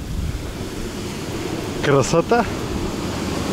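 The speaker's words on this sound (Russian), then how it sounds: "И вот так вот накатывает. Если не хочешь быть мокрым, пробегай быстро. О, как накатывает волнишка." Stormy sea waves roll and crash onto a rocky shore, a loud continuous surge with wind buffeting the microphone, while a person briefly speaks near the end.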